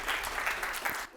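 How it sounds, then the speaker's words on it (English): An audience at a talk breaks into brief, dense applause that lasts about a second, then stops abruptly. "You clap at the end of the talk, not before."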